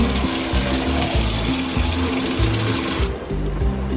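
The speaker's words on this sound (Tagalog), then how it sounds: "Ulitan po natin ang tubig sa palanggana" Water runs into a basin used for hand-washing clothes, a steady close rushing splash that stays loud for about three seconds and then thins slightly, with a low droning hum underneath.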